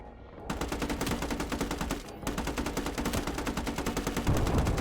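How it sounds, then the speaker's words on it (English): Rapid automatic gunfire rattles in a video game, loud, close bursts of machine-gun shots with a brief pause before the firing resumes. "What are they shooting at?"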